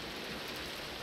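Steady rain falls in a video game, an even hiss of drops heard alone throughout the short moment with no other sounds.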